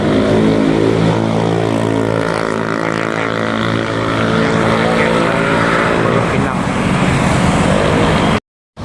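An ANS intercity bus bound for Padang, departing Pondok Pinang, rumbles loudly and steadily with a heavy engine drone as it pulls onto a toll road; the noise holds throughout before cutting off abruptly near the end.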